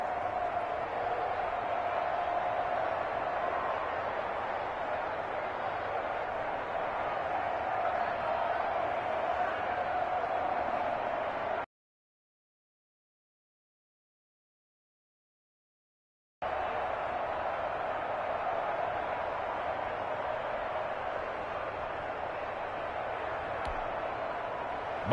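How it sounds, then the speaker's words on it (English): A steady, dense roar from a stadium crowd in Seattle in the football game Madden 21, with a brief stretch of silence partway through before the noise resumes at the same level. "Combined with this crowd noise, makes it very difficult to run offense."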